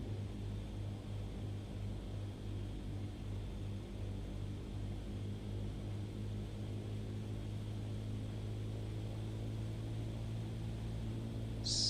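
Steady, droning propeller engine of a light general-aviation airplane descending toward Falwell airport in Microsoft Flight Simulator 2020, a constant low hum with hiss, faint and uninterrupted, ending with a brief click.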